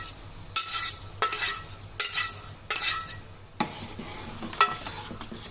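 Vermicelli stirred in boiling milk in a pot, with several bursts of scraping utensil strokes against the pan separated by short pauses, close and fairly loud, no talking.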